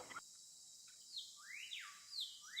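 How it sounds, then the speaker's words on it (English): Night birds calling in a dark jungle, a few faint rising and sweeping whistled notes spaced apart over a quiet background. "Yeah, it's just the night birds."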